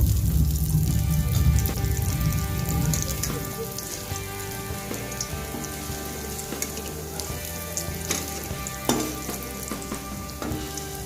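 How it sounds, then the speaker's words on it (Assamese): Lentil fritters (dal bora) deep-frying in hot oil, a steady, dense sizzle and crackle that runs the whole time, slightly louder at the start, with a few faint utensil touches and no talking. "এনেদৰে 5 মিনিট মান ভাজি লম।"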